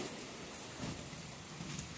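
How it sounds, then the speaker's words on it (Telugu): Heavy rain falls steadily during a thunderstorm onto a road outside a house, a dense, even hiss of rainfall that does not let up, with no voices. "అంత పెద్ద వర్షం ఇంకా పడుతూనే ఉంది"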